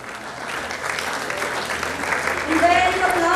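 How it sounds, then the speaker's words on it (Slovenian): An audience applauds pupils of Loče primary school at a youth awards ceremony, with steady clapping that swells toward the end as a few brighter tones rise over it. "In velik aplavz za učence osnovne šole Loče."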